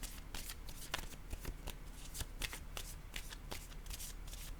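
Tarot cards handled and laid down during a reading, a close run of crisp papery flicks and soft slaps repeating quickly and irregularly over steady low room noise, with no voices.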